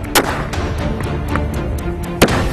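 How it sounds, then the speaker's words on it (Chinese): Chinese and Indian soldiers firing each other's rifles at a joint counter-terror training range, a few sharp gunshots spaced irregularly, two louder near cracks and fainter ones between, over a low steady background. "中印双方互换枪支进行射击"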